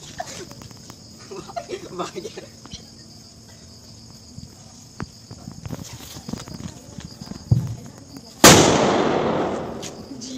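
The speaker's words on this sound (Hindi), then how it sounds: "मेरा चॉकलेट बम तो शुभारंभ करो तब से." A chocolate bomb firecracker explodes near the end with one loud, sharp blast and a lingering crackling decay, after faint background chatter and scattered small noises.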